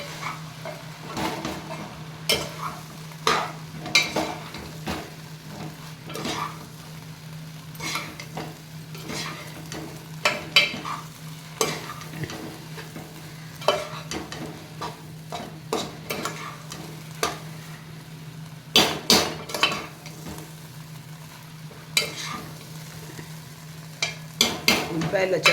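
Uggani mixture being stirred in water in a pan, a spoon scraping and knocking against the metal in irregular strokes over a steady low hum, with faint sizzling in the background.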